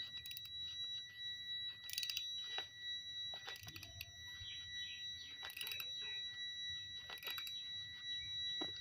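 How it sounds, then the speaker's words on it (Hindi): A continuity tester beeps on a piercing connector being tightened onto a cable, giving a steady high tone broken by clicking and scraping from handling, with several brief bursts of tool noise. "कनेक्टिविटी तो बन चुकी है, बीप बज रही है"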